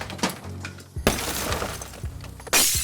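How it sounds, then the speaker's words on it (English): Glass items broken in transit shatter and crash inside a factory, several loud smashes with a final bright burst, separated by clinks and rattling debris. "Are you hear the smashing?"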